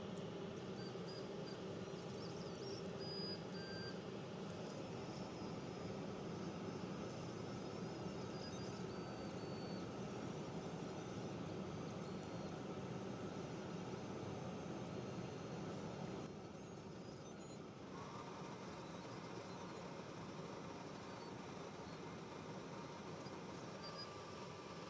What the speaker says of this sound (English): I'm going to turn our exhaust fan on and we'll hit go.